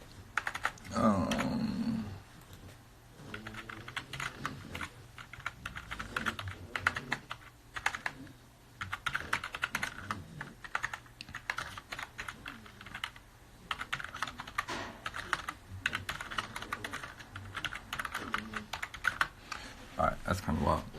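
Rapid one-handed typing on a computer keyboard, a dense run of close, uneven key clicks that keeps going throughout, with some faint background noise and occasional voice underneath.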